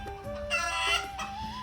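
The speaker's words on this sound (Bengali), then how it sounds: "দেখো মুরগিটা ডিম পেড়েছে, তো ডিম পাড়ার পরে দেখো কিভাবে ডাকছে" A hen clucks after laying an egg, giving a short burst of close, insistent cackling calls.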